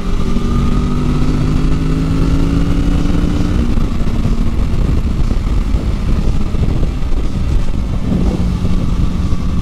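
A Kawasaki Z650 motorcycle engine accelerates loudly and up close, its rising whine climbing through the gears over steady road and wind rumble for nearly ten seconds.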